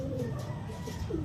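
Homing pigeons give low, soft coos on returning to the loft, a steady murmur close by that continues for the whole moment without talk.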